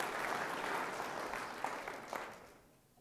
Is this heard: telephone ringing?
no